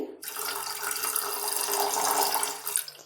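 Water poured into a pot with dal and potatoes, about one to one and a half glasses, a steady close splashing rush lasting a few seconds before cutting off, alone with no talk.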